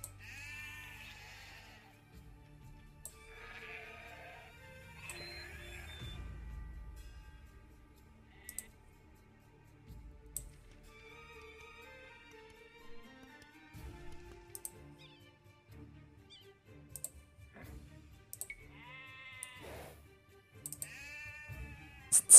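Several sheep bleats, some wavering and nasal, rise above a quiet Age of Empires 2 game backdrop with soft clicks and low rumbles, coming and going in short bursts.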